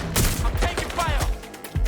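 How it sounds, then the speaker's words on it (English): Gunfire in the video game Watch Dogs: Legion, heard as a rapid, close volley of sharp shots, several bursts within two seconds, mixed with shouting voices. "I'm taking fire!"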